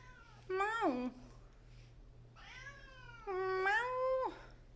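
A cat meows at the door, two loud, drawn-out calls close by with a pause between them, against a low steady background hum.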